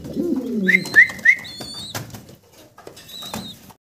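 Pigeons coo close by, several soft rolling calls in quick succession, with a few brief rustles and movements in between and no talk.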